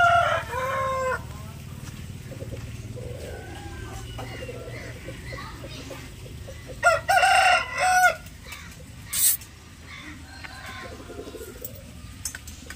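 Fighting roosters of red and white Aseel types crow several times and cluck in a farmyard, loud bursts standing out over a steady low background hum.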